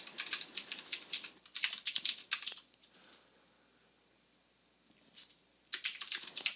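Rapid clicking keystrokes on a computer keyboard come in close, crisp bursts, pausing for a couple of quiet seconds in the middle before resuming.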